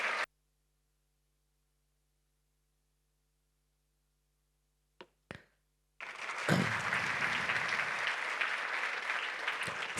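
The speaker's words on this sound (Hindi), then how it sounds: "जोरदार तालियां उनके लिए होनी चाहिए." An audience at a Sri Chaitanya Academy centre event in Nagpur breaks into loud, sustained applause after a silent gap and a couple of faint knocks, the clapping continuing strongly to the end.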